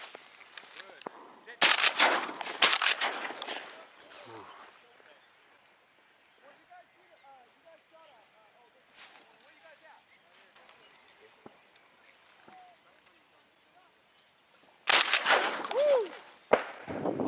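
Shotgun blasts during a duck hunt outdoors, a tight cluster of loud shots early followed by quieter field sounds and distant calls, then another burst of shots near the end, with people talking at times.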